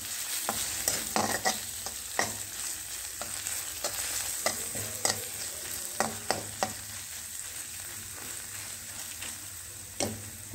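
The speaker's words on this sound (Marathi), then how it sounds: "तर या भोपळ्याला छान परतवून घेऊयात।" Grated bottle gourd being stir-fried in a pan for a sweet halwa, a steady close sizzle broken by frequent scraping stirs of the spatula against the pan, with no voices.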